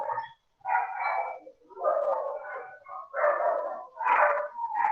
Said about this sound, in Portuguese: a gente não tem como controlar cachorro latindo